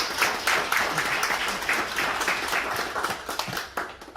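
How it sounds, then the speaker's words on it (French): Applause from a community council meeting in Guadeloupe honoring the new mayor of Sainte-Anne, Franck Baptiste: a steady, full room of clapping that holds evenly throughout. "M. Franck Baptiste, nouveau maire de Sainte-Anne, que je vous demande d'applaudir"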